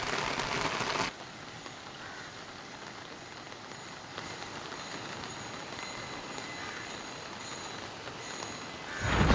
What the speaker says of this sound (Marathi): शहापूरमध्ये मुसळधार पाऊस होताना आपल्याला दिसतोय